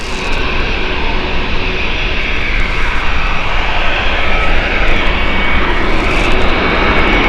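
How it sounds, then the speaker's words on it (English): British Airways Boeing 777 bound for Vancouver taking off at Gatwick Airport, a loud sustained jet engine roar that holds steady and rumbles throughout. "British Airways 777 takes off"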